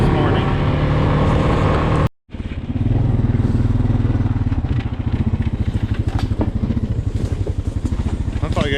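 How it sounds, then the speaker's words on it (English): A four-wheeler ATV engine drones steadily on a morning ride across farmland, loud and close, with a brief cutout near the start before the motor resumes its rumbling idle and revving; a voice speaks over it. "So we're going a little four-wheeler ride this morning."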